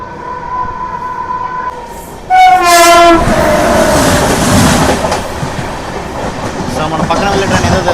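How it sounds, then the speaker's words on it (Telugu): The Vivek Superfast Express passes close alongside a moving train near Tenali Junction, opening with a loud horn blast and then a sustained roar of wheels and rushing carriages, with clickety-clack rhythm and a voice talking underneath. "మన పక్కన వెళ్ళే ట్రైన్ ఏదో తెలుసా, కన్యాకుమారి తిరుగుతారు వివేక్ సూపర్ ఎక్స్ప్రెస్ అనేది"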